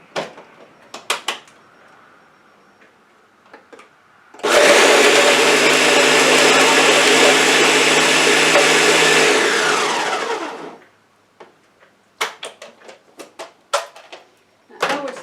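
A Ninja blender crushes ice in a loud, steady whir that runs for about six seconds, with faint clinks and clatter from ice chunks before it starts and after it stops.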